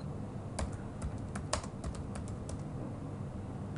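Close computer keyboard typing as a product description is entered in an online store's admin panel, with a short burst of a dozen or so light clicks over faint background noise and no talk.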